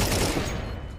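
Sustained automatic rifle fire from Counter-Strike 2 gameplay, a loud, dense burst of rapid shots running continuously through the moment without pause.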